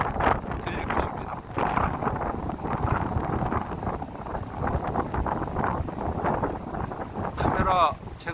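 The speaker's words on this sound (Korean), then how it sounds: "바람 소리가 많이 들리고" Strong, cold sea wind buffets the microphone on a shore, making a steady, loud, roaring rumble that fills the whole stretch, with a voice heard now and then beneath it.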